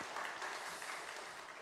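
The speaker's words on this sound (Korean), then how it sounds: "우리 감사로 하나님 앞에 영광의 박수 한번 치겠습니다" A church congregation claps together at a Thanksgiving service, a steady dense wash of applause that holds at an even level throughout, with no voices over it.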